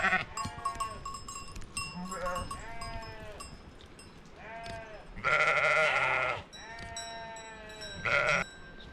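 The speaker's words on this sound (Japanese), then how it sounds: "羊さんがめっちゃ来た" Sheep bleating in an alpine pasture in the Swiss Alps, several close, loud, wavering calls in quick succession with overlapping voices and a couple of harsher, louder bleats, over faint outdoor background.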